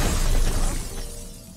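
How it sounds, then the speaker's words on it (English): Glass shattering in the video game Dishonored 2: a loud, dense crash that starts at once and fades over about a second, with no voices over it. "That sounded like broken glass."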